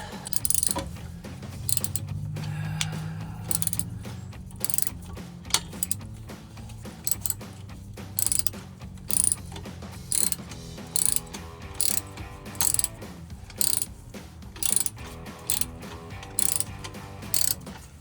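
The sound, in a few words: 5/8 socket ratchet on Mustang axle-back exhaust bolts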